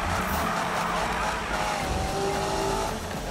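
A car slides sideways through a drift in the Need for Speed racing game, its engine roaring steadily under a long, wavering tire squeal.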